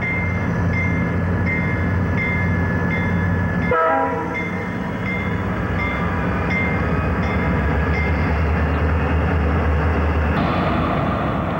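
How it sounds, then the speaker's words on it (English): A slow-moving freight train rolls along Basin Street with a sustained rumble and rail clatter, and a loud, tonal train horn sounds several times over the rolling noise. "Another of the endless, slow-moving freight on Basin Street."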